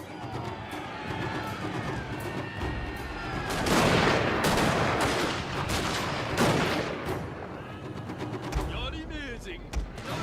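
A musket volley and sustained gunfire from the video game Total War: Shogun 2 – Fall of the Samurai, dense overlapping shots swelling and rolling across the whole stretch, with a voice talking over the battle noise.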